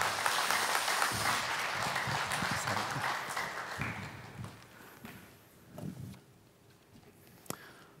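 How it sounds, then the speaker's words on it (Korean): A church congregation claps in thanks, the applause dense at first and then thinning out and fading, with scattered individual claps and a sharp tap near the end. "또 우리 하나님께 감사의 박수 올려드리십시다."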